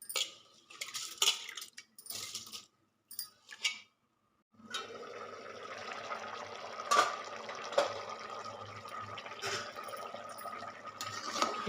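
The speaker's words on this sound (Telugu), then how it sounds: "2 గ్లాసులు వాటర్ పోస్తున్నాను" Water poured into a pot with rice for a pulav: a few short clinks and splashes, then a continuous close pouring rush that runs to the end.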